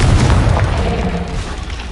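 A deep, booming magical blast from a Confringo spell in a Harry Potter video game. One heavy rumbling explosion fills the whole moment, then slowly fades.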